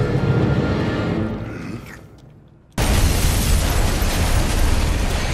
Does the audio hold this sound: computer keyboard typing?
no